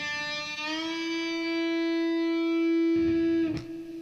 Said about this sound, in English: Bending sounds like this.